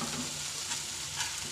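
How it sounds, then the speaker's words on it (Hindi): Boiled potatoes and fenugreek leaves are stirred in a hot frying pan, giving a steady soft sizzle with gentle scraping, close and quiet, without any voices. "इसको अच्छे से मिक्स कर देंगे। आलू उबले हुए हैं तो थोड़ा सा तो इसमें चिपक जाएंगे"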